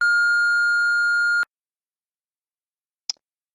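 A voicemail system's prompt beep, a single loud, pure steady tone lasting about a second and a half, then silence broken by a faint brief click.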